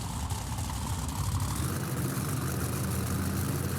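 A monster truck engine in BeamNG.drive, a loud, steady low rumble that deepens and grows heavier partway through as the throttle is eased on.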